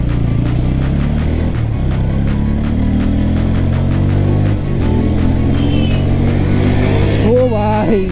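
An RC200 and an N160 motorcycle rev and sweep past in a traffic drag race on a rain-damaged road, a loud continuous engine roar with rising and falling pitch and a sharp pass near the end.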